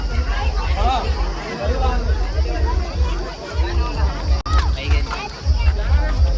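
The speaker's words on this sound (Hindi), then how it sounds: "तो संगवारी आप मन देख सका था फुल भीड़ है" A large, dense crowd of devotees fills a Shani Dev temple on the deity's birthday, a continuous loud babble of many voices close around, with someone talking over it.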